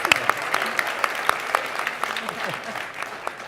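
Scattered clapping from an audience, sharp individual claps spread over a few seconds, moderately loud, thinning out toward the end.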